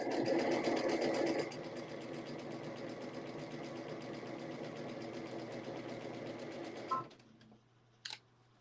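A sewing machine stitches quilt pieces in a steady, close whirring run that slows, stops, and is followed by a couple of short clicks.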